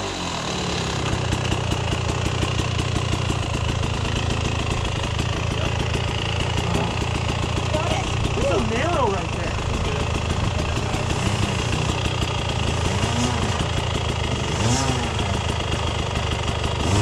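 Motorcycle engine idling steadily while a rider is coached on using the throttle, a close, rough, continuous rumble with some rises in revs. People talk over it throughout.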